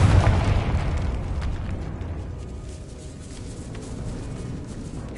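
Confringo blasting spell exploding in the video game Hogwarts Legacy, a deep booming blast that rumbles and slowly fades, with faint crackling debris afterward.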